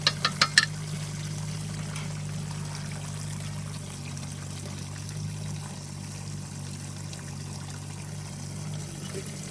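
Beer trickles and pours steadily through a hose on a home brew day with a valve shut off, a continuous close liquid stream under a low hum, a few sharp clicks near the start.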